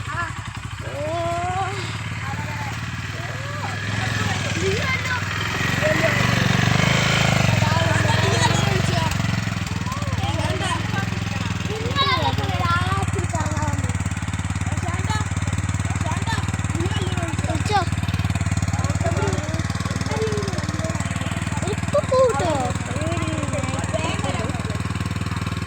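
A motorcycle engine running steadily at idle, a constant low drone that swells slightly partway through, with people talking over it for most of the time.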